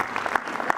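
An audience claps for an event organizer at a 50-year anniversary celebration, a short burst of steady, dense applause from a crowd heard close.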